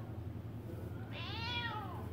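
A single clear cat meow rises and falls, close by, over a steady low hum.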